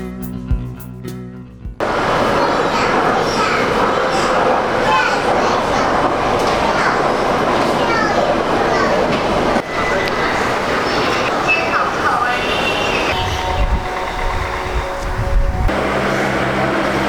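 A Shanghai Metro Line 11 train runs with a loud, steady rumble and rushing roar inside the carriage, punctuated by a thump and shifting tones as it moves, while children chatter and play nearby throughout.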